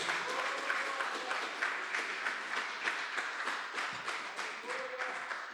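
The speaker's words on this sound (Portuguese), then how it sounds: "Vamos aplaudir bem forte ao nosso Deus." A church congregation applauds during a sermon, steady dense clapping that fills the room, with voices faintly mixed into the crowd noise.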